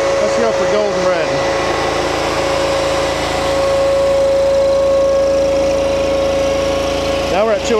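A running engine makes a steady droning hum with a constant tonal whine throughout, up close and fairly loud.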